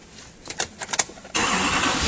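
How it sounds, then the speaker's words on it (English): A 2007 Chevrolet Silverado 2500 with the 6.6L diesel engine cranks with a few uneven starter bursts, then catches and settles abruptly into a loud, steady running roar, heard close with no talking. "Let's start it up and take a quick look under the hood."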